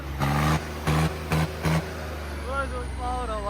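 A Swaraj 855 tractor in a tug-of-war contest revs its engine in several loud, rhythmic bursts, each heavy and close, followed by a steadier diesel drone as voices shout in the background.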